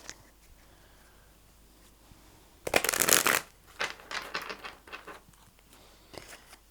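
Tarot cards are shuffled close by in one loud riffling burst, followed by softer flicks and taps as the deck is handled, with no talk.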